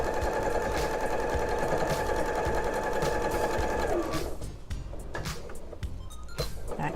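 A sewing machine runs steadily along a quilt border seam, a close, continuous whirring hum that stops partway through, followed by scattered clicks and handling sounds.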